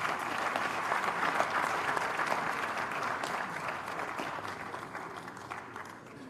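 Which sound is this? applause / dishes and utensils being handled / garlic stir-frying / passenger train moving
applause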